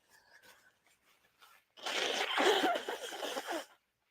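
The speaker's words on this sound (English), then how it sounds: "let me just blow my nose for just 1 second" After a moment of faint murmuring, someone blows their nose hard in one long, noisy, wet burst lasting nearly two seconds.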